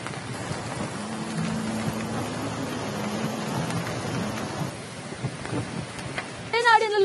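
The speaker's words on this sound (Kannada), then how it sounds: "ಶಿವಮೊಗ್ಗ ಜಿಲ್ಲೆಯ ತೀರ್ಥಹಳ್ಳಿಯಲ್ಲಿ ಭಾರಿ ಮಳೆಯಾಗ್ತಾ ಇದೆ" Heavy monsoon rain pours down steadily in Thirthahalli, Shivamogga district, with a dense, continuous hiss. A low rumble runs beneath it, and a brief burst of voice breaks in near the end.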